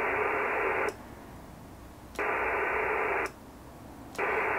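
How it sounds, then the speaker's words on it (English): A handheld ham radio switches repeatedly between receive and transmit as its PTT button is pressed and released: loud bursts of white-noise static cut in and out with sharp clicks, alternating about every second. "when I press the PTT button you'll hear it cut over to transmit"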